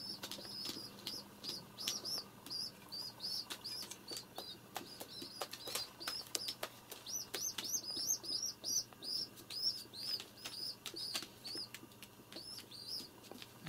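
Feral pigeons indoors in a room: repeated loud wing flaps and clatters close by, with soft chirps and faint coos scattered through a quiet background and no talk.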